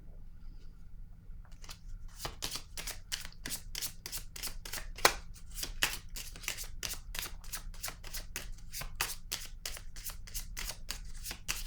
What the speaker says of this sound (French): Je vais déposer une carte dans cette zone.